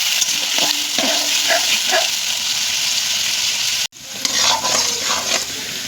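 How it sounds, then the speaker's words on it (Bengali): Small cut potato pieces fry in hot oil for chicken ghugni, giving a bright continuous sizzle with scraping stirs of a spatula breaking through in bursts, close up. "ওই জন্য ছোটো ছোটো করে আলুটা কেটে আগে ভেজে নিচ্ছি।"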